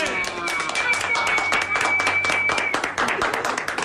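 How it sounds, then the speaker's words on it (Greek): Studio audience applause for a Greek TV family comedy, steady dense clapping throughout the moment, fairly loud and close, with a voice calling out briefly over it. "Θέλω ακόμα ένα χειροκρότημα για τον ήρωά μας."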